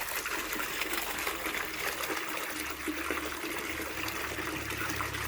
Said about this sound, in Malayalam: ഇങ്ങനെ നമ്മൾ പുറത്തു പോകുന്ന വെള്ളം ക്ലിയർ ആവുകയോളം നമ്മൾ ചെയ്തുകൊണ്ടിരിക്കണം.